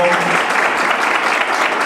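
An audience applauds a doctor at a conference on the human rights of older adults, steady, close, loud clapping filling the whole moment.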